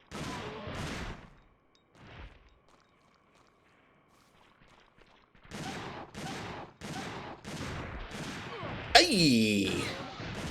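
Shotgun blasts from the video game Dino Crisis 2, about half a dozen loud, evenly spaced booming shots in quick succession after a quieter stretch, ending with a sharp crash and burst of game noise.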